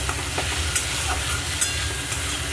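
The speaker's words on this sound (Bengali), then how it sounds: "আর অল্প একটু কাশ্মীরি লঙ্কার গুঁড়ো সামান্য পরিমাণ দেব বেশি দেব না দিয়ে মশলাটা আমি ভালো করে কষবো" Spice paste with a little Kashmiri chilli powder frying in a pan for an Indian potato and pointed gourd dalna, a steady close sizzle with faint stirring scrapes and no talk.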